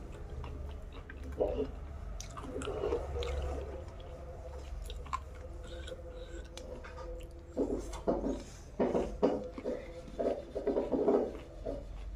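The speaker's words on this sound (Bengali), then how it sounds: "খুব তাড়াহুড়ো করে খাচ্ছে।" Someone eating a fish curry lunch with potato and bean vegetables in a hurry, soft close chewing and mouth sounds in irregular bursts, growing busier toward the end, with speech at times.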